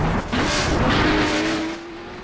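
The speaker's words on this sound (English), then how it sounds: "As all the cars are swiftly wiggling to get through turn 1 and 2 on straight and come round to complete another lap of this destruction race." Jaguar banger race cars at Skegness raceway roar through a turn during a destruction race, engines loud and close with tyres squealing, one engine note climbing steadily as the pack pushes on.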